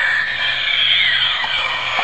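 A 1/15-scale Back to the Future DeLorean toy's tinny electronic time-machine effect for hitting 88 miles per hour rises and warbles through a small speaker, a continuous buzzy whine with sweeping pitch, close and fairly loud.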